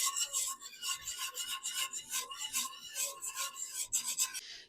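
A whisk scrapes rapidly and steadily through a thick creamed corn mixture in a bowl, a close, continuous raspy rubbing with a quick stirring rhythm and no talking.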